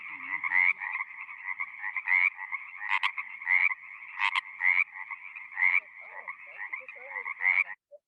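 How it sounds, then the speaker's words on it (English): Male Sierra tree frog calling for a female: a steady series of rapid, buzzy croaks, close and clear, pulsing continuously for about eight seconds with a few louder, sharper notes, alone without talk. "this cute thing is a male Sierra tree frog calling for a female"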